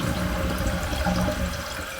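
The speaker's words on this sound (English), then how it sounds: "let's go ahead and flush it to test just to make sure" A household toilet flushes after its fill valve and flapper were replaced, a loud close rush of draining water settling into steady refill hiss, with no talk.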